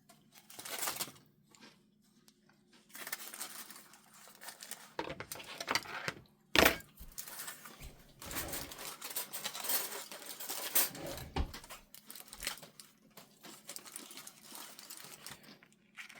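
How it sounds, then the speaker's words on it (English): Someone crunches on thin, crisp keto zucchini crisps, producing irregular close-up bursts of crackling bites and chewing with pauses between them. "That really is a good Crunch."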